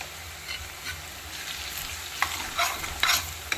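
Ginger garlic paste fries and sizzles in a pan for mutton curry, a soft steady crackle broken by a few sharp stirring scrapes toward the end.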